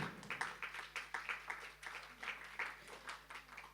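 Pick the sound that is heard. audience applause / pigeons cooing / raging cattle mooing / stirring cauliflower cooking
audience applause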